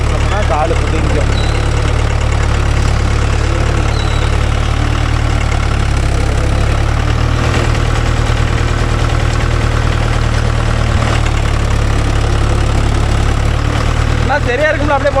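A Mahindra Arjun Novo 605 DI tractor pulling a rotavator through damp farmland sends out a loud, steady diesel rumble that runs without a break from start to finish.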